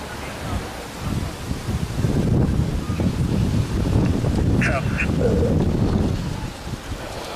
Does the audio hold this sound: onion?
no